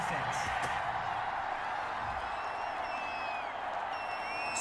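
Stadium crowd in Madden NFL 21 football game holding a steady, dense buzz of cheering and murmur throughout, with faint whistles on top, after a roughing-the-passer penalty.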